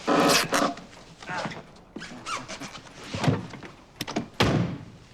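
A person bumps into a closed door on a television studio set, producing loud thuds and squeaky rattles in several bursts, with a dog and some movement noise around them.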